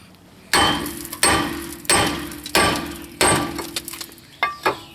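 Hammer strikes drive new wheel bearing studs into a rear hub on a 2003-2007 Honda Accord, with a spacer keeping the hammer off the studs. Five sharp metallic blows land at an uneven pace, close and loud, followed by a few lighter taps.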